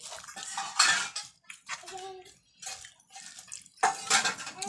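Metal cutlery and dishes clatter in a home kitchen: several loud, close bursts of scraping and clinking, separated by brief pauses and ending with a final sharp rattle.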